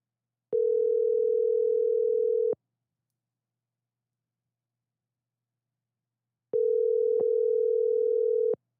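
A telephone call to a realtor rings out: two long, steady electronic ring tones about four seconds apart, each lasting around two seconds, with silence between them.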